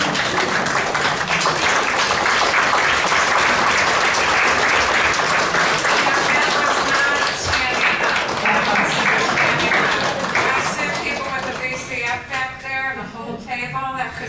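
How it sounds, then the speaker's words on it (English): Sustained applause fills a remembrance symposium hall for families, responders and survivors, broad and even crowd clapping that thins and softens toward the end with a voice beginning to speak. "I'd like to give you a round of applause"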